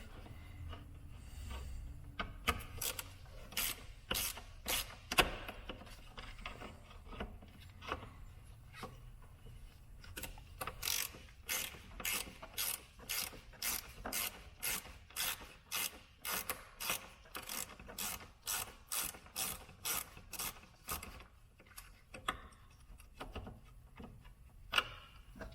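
Rapid clicking of a socket ratchet backing a bolt off the radiator bracket on a BMW X3 headlight, heard in quick bursts of regular ticks that speed into a long steady run, close and fairly quiet, with no talking.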